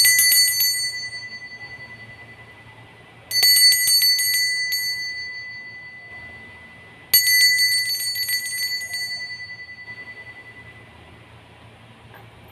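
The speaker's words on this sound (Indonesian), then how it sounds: "Kita akan memulai dengan ditandai lonceng berbunyi." A bell rings three times at a steady interval to signal a start, each strike bright and ringing, then decaying slowly into a soft low hum with no other sounds.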